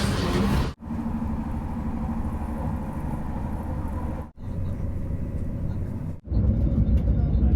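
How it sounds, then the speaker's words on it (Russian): A train pulls into a station platform in Poland with a heavy, continuous low rumble and rolling noise, broken by a few abrupt cuts. Faint voices can be heard beneath the rumble. "Ну вот и наш уже поездик есть."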